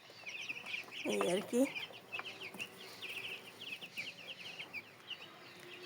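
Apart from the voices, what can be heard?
broiler chickens clucking on a small farm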